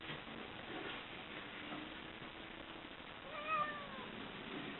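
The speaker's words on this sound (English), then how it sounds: "I think they have cats, because I've been seeing cats walking through the window lately" A neighbor's cat meows faintly and far off, a couple of thin rising calls near the end over a steady background hiss, with no talk.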